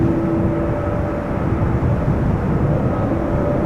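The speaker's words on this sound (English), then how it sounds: "we're seeing the 747 taking off from the wrong runway" A Boeing 747 taking off at Amsterdam Schiphol Airport, a steady broad engine roar with a low rumble holding at the same loud level throughout, heard alone without voices.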